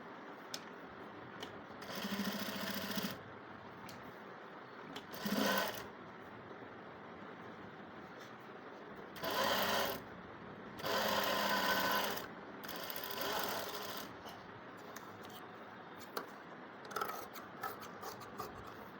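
A sewing machine stitches a puff sleeve in several separate runs of steady mechanical whirring, each a second or two long, with quiet handling noises between the bursts and no talking.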